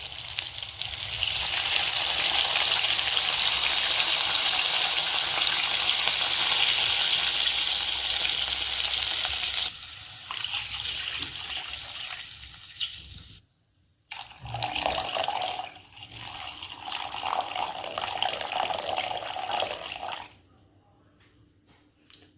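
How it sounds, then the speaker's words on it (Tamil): Water poured into a pan of sautéed vermicelli upma base, a loud steady rushing hiss for about ten seconds that breaks into bursts of sizzling and splashing before fading out, with no talking. "நான் 2 டம்ளர் தண்ணி ஊற்றுறேன்"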